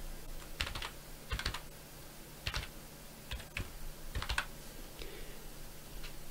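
Bursts of keystrokes on a computer keyboard, typed in short clusters separated by brief pauses, close and fairly quiet over a low steady background hum.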